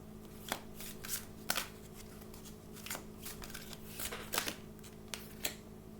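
An Archangel Michael oracle card deck is shuffled by hand, giving repeated soft riffling snaps in a steady rhythm over a faint background hum.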